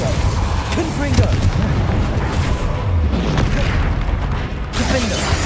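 Hogwarts Legacy spell effects: dense, loud bursts, booms and crackling magical impacts in steady succession, with a voice calling out spell names over the clamor.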